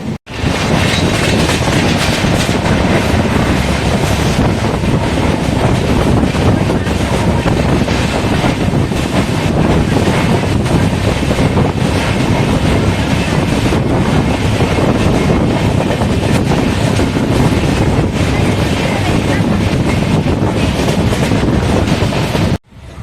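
Passenger train rolling slowly along a single-track line near Murthipalayam, about 10 km before Karur, on the Erode to Rameswaram route: loud continuous rumble with rattling carriages and wind buffeting the microphone, no talk.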